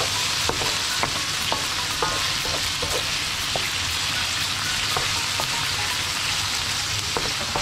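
Squid frying in a pan for seafood spaghetti, a constant loud sizzle with scattered scraping stir clicks throughout, close up and without speech.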